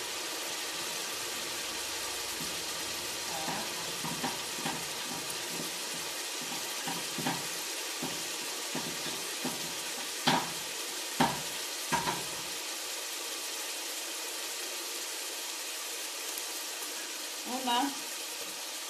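Garlic and onion fry in a pan for Peruvian tamales, a steady close sizzling hiss running throughout, with light stirring clicks and a brief voice near the end.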